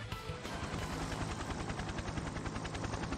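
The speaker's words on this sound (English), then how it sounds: "Simultaneously, the faint sound of a helicopter becomes evident." Helicopter in the video game Persona 4 Arena Ultimax, a steady rotor chop with rhythmic pulsing under dense game noise and music, continuous and fairly loud throughout.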